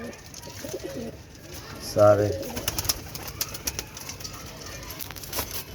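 Blue pigeons coo in soft, repeated throaty calls, with one louder coo burst near the middle, alongside brief wing and rustling sounds and a little human voice.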